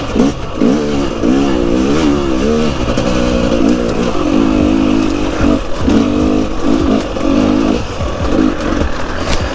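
A new 2023 KTM 250 XCW two-stroke dirt bike ridden on a track, engine loud and close, revving and dropping as the rider clutches and shifts between second and third gear, with wind and clatter throughout.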